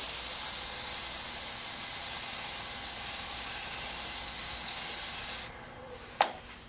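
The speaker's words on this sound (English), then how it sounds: "Again, gotta do a little bit of sanding." A loud, even hiss of sandpaper rubbing on a wooden Roman flask spinning on a lathe runs for about five seconds, then cuts off abruptly, followed by a faint click.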